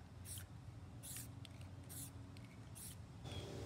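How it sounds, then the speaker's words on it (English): Spray can painting parts of a homemade pumpkin launcher, four short evenly spaced hissing bursts followed by a fifth, fairly quiet and close with no voices. "Now what we're going to do is spray paint this up."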